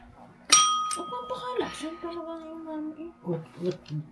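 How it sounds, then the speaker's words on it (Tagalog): A bell on a tabletop game is pressed once, giving a sharp ding whose tone rings on for a couple of seconds while children chatter nearby. "Press the bell. Press the bell."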